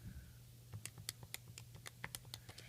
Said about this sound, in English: Let's type that in the calculator.